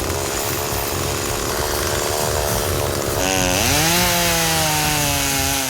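Loud, close chainsaw cutting a tree beside a cabin: a steady, rough buzz, then the engine revs up sharply and holds a higher, straining whine to the end.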